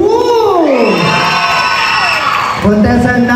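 Loud crowd at a contestant show erupting in cheering and high shouting, many voices whooping and yelling together in a sustained wave, close and continuous.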